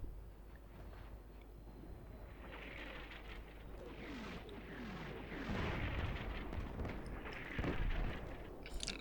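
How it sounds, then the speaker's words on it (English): Mortar shells exploding in the video game Combat Mission Shock Force 2: muffled, distant booms and rumbling impacts spread across a busy battlefield background, with heavier thuds near the end. "Friendly mortars coming in as well."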